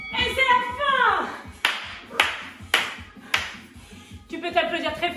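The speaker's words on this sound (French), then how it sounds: "Tu peux t'applaudir très fort, tout seul chez toi sans problème." Hands clapping at home, a few sharp separate claps spaced about half a second apart, set between stretches of background music with a voice heard around them.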